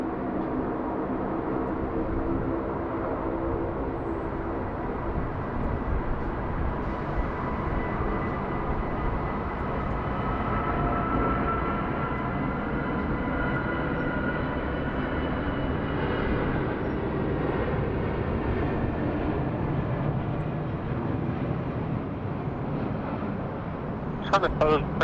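An Emirates airliner on approach to land at Sydney Airport roars in a steady, broad rumble that holds for the whole stretch, with a voice talking over it.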